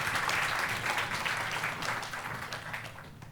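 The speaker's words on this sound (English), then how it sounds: "I want to give Patrick and Jim a round of applause" A crowd at a SXSW film screening bursts into applause for Patrick and Jim, dense clapping loud at first and slowly thinning toward the end.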